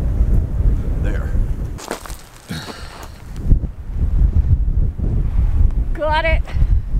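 Strong wind buffets the microphone on a hilltop during a hike in Penticton, British Columbia, a loud, gusting rumble with a brief lull midway, and a person talks over it.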